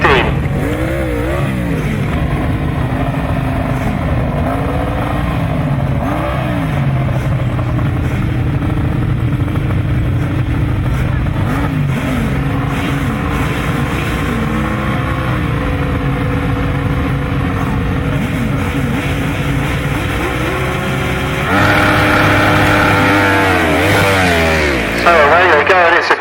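1000cc sidecar motorcycles racing on a grasstrack: several engines roar and rise and fall in pitch as they pass, loud and continuous under steady commentary.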